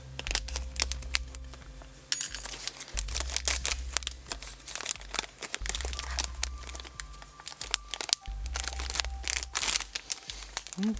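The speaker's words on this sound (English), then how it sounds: "So I'll just use a little X-Acto knife blade." An X-Acto knife blade slices and tears open the packaging of a talking clock kit, close-up crinkling and ripping of plastic and card in irregular bursts over a low background hum.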